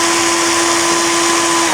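A cheap, drill-like electric screwdriver bought from a sketchy ad spins its bit with a steady, loud whining hum close up, then cuts off abruptly at the end.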